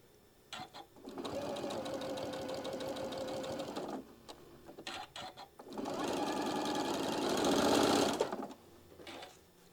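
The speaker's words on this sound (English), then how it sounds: "Do a couple anchoring stitches and then sew the rest of the way down." A sewing machine stitches a concave seam in two sustained runs of rapid, close mechanical chatter, the second longer and louder, separated by short pauses and a few brief taps.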